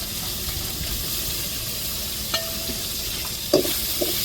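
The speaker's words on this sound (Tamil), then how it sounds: "இஞ்சி பூண்டு நல்லா பச்சை வாடை மார்க்கத்தையும் வதக்கிக்கிடுவோம்." Ginger garlic paste sautéing with onion and tomato for a crab gravy, a steady broadband sizzle with a few sharp stirring scrapes near the end, close and continuous, no voices.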